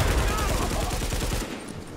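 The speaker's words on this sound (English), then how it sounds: "Something about these guns. They have such a good kick." Rapid automatic gunfire from guns in the video game Tom Clancy's The Division, a loud continuous stream of close shots that cuts off near the end.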